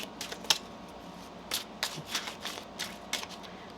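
Tarot cards being shuffled by hand, a series of soft papery riffles and slaps in an irregular rhythm, close and fairly quiet, with no voices.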